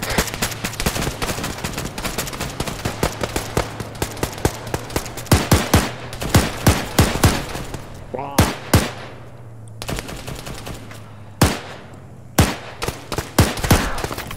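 Bursts of automatic gunfire from a nearby building in a shooter game, sharp close cracks in irregular rapid volleys with short gaps, over a low steady hum.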